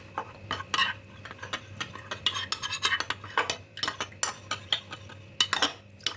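A spoon stirs a cornstarch and water slurry, clinking against a bowl in quick, irregular taps and scrapes, close up, with no talking.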